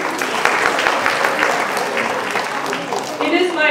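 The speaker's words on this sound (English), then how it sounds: "give them another round of applause." An audience at an Onam celebration gives a steady round of applause, close and loud, with dense clapping throughout and a voice briefly audible near the end.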